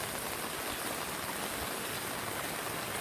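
Torrential storm rain pours down as a dense, unbroken hiss of heavy drops and running water, steady and fairly close, with no voices heard.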